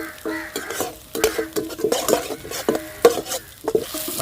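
Onions and curry leaves are stirred and sautéed in a pan for shark fish puttu, with a steady run of loud metal spatula scrapes and clanks against the pan over a light sizzle.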